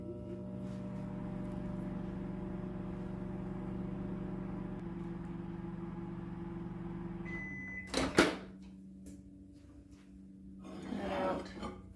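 A microwave oven hums steadily for several seconds while ingredients for no-bake chocolate peanut butter oatmeal cookies melt inside, then a beep and a clunk of the door sound, followed by a brief clatter of dishes.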